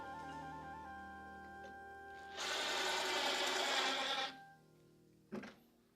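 A power drill whirs for about two seconds, driving through two layers of sign board, preceded by a faint hum and followed by a short knock, heard close and alone.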